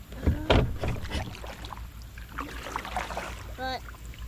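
Kayak being paddled on a pond while bass fishing: soft watery splashes and drips from the paddle, close and fairly quiet over an outdoor hiss, with a brief squeak near the end.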